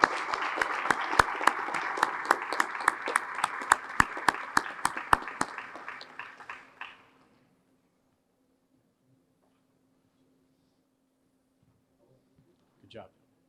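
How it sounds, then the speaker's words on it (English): An audience at a firefighters' awards banquet bursts into dense, fairly close applause, with a few loud individual claps, for about seven seconds before it fades into near silence and a brief sound near the end. "How about a round of applause for them?"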